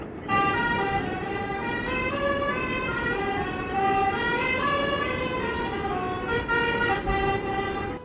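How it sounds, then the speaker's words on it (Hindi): A musical, multi-tone truck horn plays a long melodic pattern continuously over steady road noise, fairly loud and close, on a mountain road. "सामने पे एक ट्रक चल रहा है, उसका हॉर्न कुछ मज़ेदार है"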